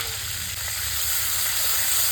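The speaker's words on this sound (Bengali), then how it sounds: "এবার আমি তেলে দিয়ে দিই সামান্য একটু কালো জিরে দিয়ে দিলাম।" Black cumin seeds hiss and sizzle steadily in hot oil in a home kitchen pan, a close, continuous crackling fry with no break.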